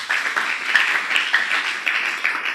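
A church congregation at a ministers' retreat claps hands together, a dense continuous wash of applause with steady rhythmic surges, loud and close throughout.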